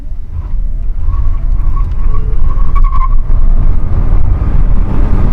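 A Tata Nexon EV MAX electric SUV launches hard in sport mode with some wheel spin, giving a loud, continuous low rumble of tires and road noise with a brief rising whine, heard from inside the cabin.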